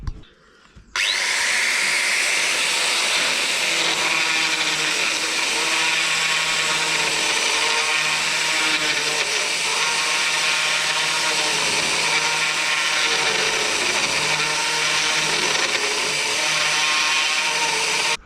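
A high-pitched grinder whines loudly and continuously for the whole stretch after a short quiet start, with a harsh gritty edge as it grinds out brick mortar.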